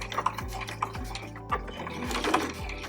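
Sewing machine running a straight line of stitches through fabric and ribbon for a heart ornament, with a steady mechanical rattle, close and continuous, with no talking.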